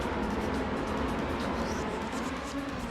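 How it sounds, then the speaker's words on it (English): Rally car engines roaring in a racing video game during a league semi-final race, a loud, steady broadband drone holding at full level throughout with no pauses. "These rally cars are fucking loud,"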